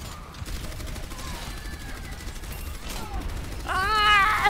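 Overwatch gameplay with bursts of rapid gunfire layered over game effects and rising tonal sounds, loud and continuous throughout.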